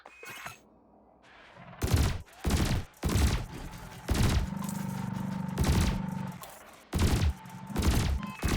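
Ship weapons in Elite Dangerous firing at cargo canisters: repeated loud, separate bursts of blasting fire, each a second or so long, with a steady low cockpit hum in between.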